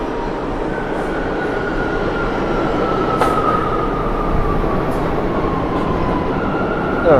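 A New York subway train rumbles steadily into the 42nd Street station, a long sustained roar with a faint metallic whine running through it and a brief squeal near the end.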